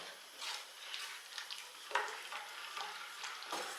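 A ragi (finger millet) mixture boils in a pot while being stirred, giving a steady bubbling, scraping texture with soft repeated stirring strokes close by and no talking.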